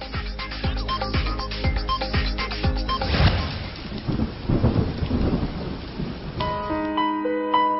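Steady heavy rain beating down through a thunderstorm, with deep rumbles of thunder rolling underneath, a louder crash midway, and a tonal music sting rising over the storm near the end.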